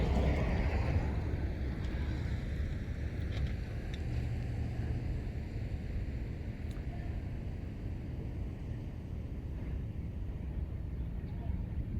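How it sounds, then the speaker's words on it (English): A truck drives past on a road beside Grapevine Lake, a steady broad low rumble with wind noise that stays loud for the whole stretch, fading slightly toward the end. "Let me let this truck go by."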